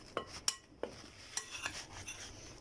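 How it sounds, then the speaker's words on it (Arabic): A spoon stirs a dry mixture with raw cocoa in a bowl, giving faint, scattered scrapes and light clinks against the dish, close and quiet with no talk. "هحط كده الكاكاو الخام، تمام، وهقلب كده الخليط كله مع بعضيه كده اهو"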